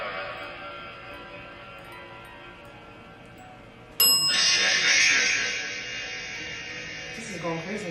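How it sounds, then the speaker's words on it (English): A ghost-hunting dead bell rings outdoors, one sudden bright chime that cuts in midway over a steady noisy hum and lingers briefly, with a smaller clink near the end. "Would you like us to use the bell outside?"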